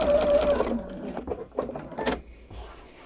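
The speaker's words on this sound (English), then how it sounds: "then when I get to the end, I will sew along the outer margin" A sewing machine fitted with a walking foot stitches a quilt, with a short loud whirring run at the start followed by intermittent mechanical clicks and brief bursts, close up.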